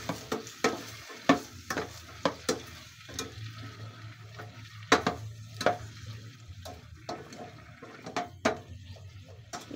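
Chopped sayote and sardines are stirred in a frying pan, a spatula scraping and clanking at an irregular pace over a soft, steady sizzle, close and without talk.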